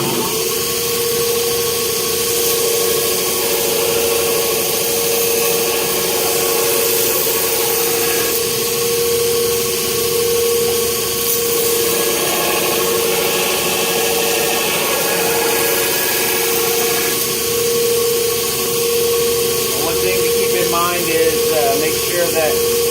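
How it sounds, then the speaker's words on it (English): A bench grinder works the flat of a heat-treated chef knife blade, producing a steady whining hum with a sustained grinding hiss that shifts slightly as the blade moves, loud and close, with a voice talking over it. "I'll show you a little bit on the grinder"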